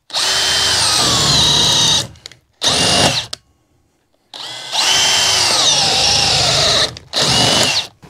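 Power tool cutting a notch into a wooden stud for electrical cable during a UK bedroom socket install: loud, close whining bursts of drilling, interrupted by a short silent pause, with no talk.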